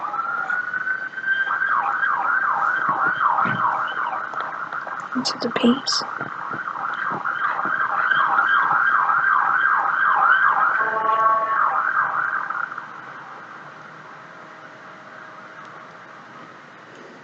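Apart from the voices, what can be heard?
emergency vehicle sirens outside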